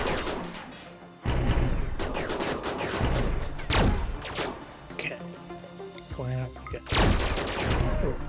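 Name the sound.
gunfire from colonists in RimWorld video game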